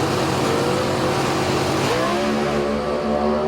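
A Competition Eliminator drag race car roars loud and close on a steady note, then its pitch jumps and climbs as it launches off the line.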